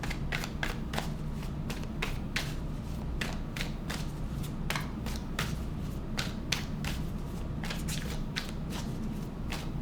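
Tarot cards being shuffled and drawn, crisp rapid riffles and snapping card slaps repeating close by in an irregular rhythm.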